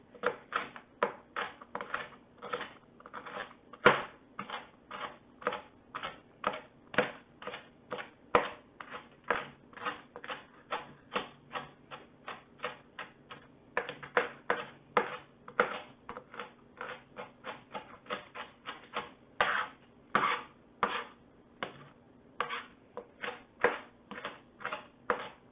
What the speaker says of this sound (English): I'm just going to continue chopping till I have